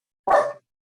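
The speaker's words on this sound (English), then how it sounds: "I'll take that dog second." A single sharp dog bark, close and fairly loud, heard on its own during a committee meeting held over a video call.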